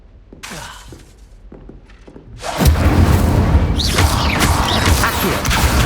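Incendio fire spell cast in the Hogwarts Legacy video game: scattered soft clicks and taps, then a sudden loud whooshing burst of flame with crackling that roars on steadily to the end.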